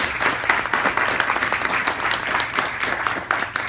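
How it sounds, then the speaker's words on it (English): An audience at a service club event claps warmly in a steady, full round of applause that continues throughout, with no talk over it. "Give him another round of applause."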